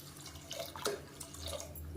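Water poured into a cooking pot on a gas stove while preparing Tamil Thiruvathirai kali and seven-vegetable kootu, a soft, close trickle and splash with faint dripping, no talk over it.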